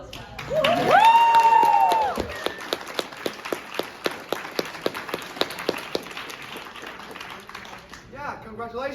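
Audience at a university furry club panel breaks into a round of applause, with scattered sharp claps rising through the clip after a loud voice fades out.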